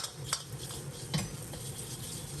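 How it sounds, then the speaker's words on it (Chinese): Fried lotus root is tossed with dried chili, ginger, garlic and seasonings in a wok, giving soft scraping stirs and a couple of light clinks of the spatula over a faint background sizzle. "放入炸好的莲藕，放入少许盐、鸡精、白糖调味，简单翻炒扒拉2下，使调料全部化开"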